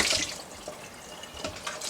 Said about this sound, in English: I'm just going to rinse this off because we're going to use it again to put the beef to mix.